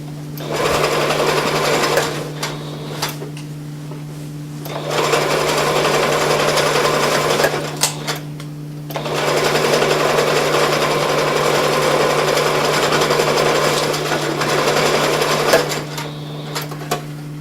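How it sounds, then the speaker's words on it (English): A sewing machine runs a zigzag stitch on a fabric travel pillow, loud and close, in three long steady bursts separated by short pauses. "you can sew it on your machine. I'm using a zigzag stitch"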